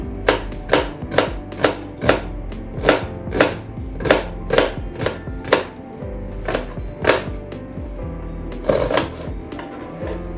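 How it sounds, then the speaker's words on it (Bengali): A knife chops onions into small pieces on a cutting board, a quick run of sharp, evenly spaced taps close up, with a few short pauses and no talking. "এবার আমি পেঁয়াজ কুচি করে নিচ্ছি"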